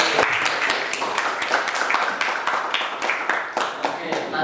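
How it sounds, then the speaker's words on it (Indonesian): Scattered clapping from a classroom audience during a camera lesson, individual claps distinct and uneven over a few seconds, with faint voices mixed in. "Oke, tepuk tangan dulu."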